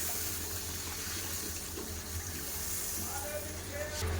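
Water pours steadily into a pan of fried spice paste for a Bengali fish curry, a continuous close wash of liquid lasting several seconds.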